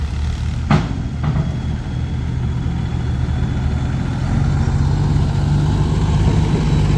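A tractor engine drones steadily while compacting earth on a dike, a low rumbling idle-to-working hum with a brief clank early on and a slight rise in load partway through, close and unbroken, no talk.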